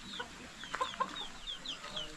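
Free range chickens in a rural mountain province setting, clucking with short bird calls scattered over steady outdoor background noise, no speech.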